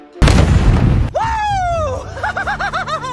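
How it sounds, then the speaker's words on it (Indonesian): A house explosion erupts in a loud burst of noise for about a second, followed by a whooshing, squealing tone and warbling electronic sounds. "sebuah ledakan dahsyat mengguncang rumah tersebut."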